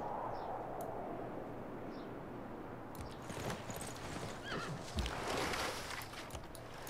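Horses in the Civilization 6 video game whinny and neigh, with clip-clopping hooves and clashing battle noise building from about halfway through, moderately loud throughout.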